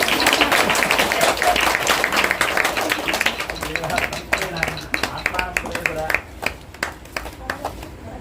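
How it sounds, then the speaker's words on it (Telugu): Audience applause at a Sri Rama Navami temple kolatam event, a dense crowd clapping that fades gradually, with voices speaking over it. "క్లాప్స్ కొట్టండి"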